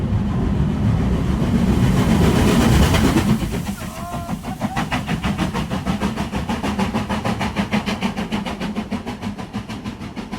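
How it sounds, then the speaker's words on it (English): A steam train roars out of a tunnel in the Scottish Highlands, its heavy rumble giving way to rapid rhythmic chuffing and clattering that continues steadily until the end. "the roar of a steam train came out of the tunnel"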